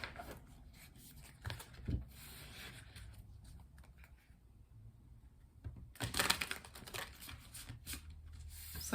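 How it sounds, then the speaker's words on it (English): Tarot cards are shuffled in quick riffling bursts, with a louder flurry near the end, separated by quieter handling sounds and no talking. "Let's continue and do some shuffling and pull 6 tarot cards for the month."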